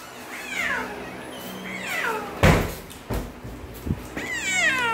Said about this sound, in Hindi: ये क्रिस्टोफर वॉकिन है, बिल्ली का, इसका जो नाम है,